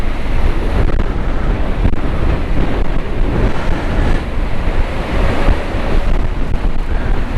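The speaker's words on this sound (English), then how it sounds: "when we were hoping the wind might get less, I reckon it's getting faster" Strong wind buffets the microphone at the sea shore while waves surge and roll in, a loud, continuous roar with no let-up from start to finish.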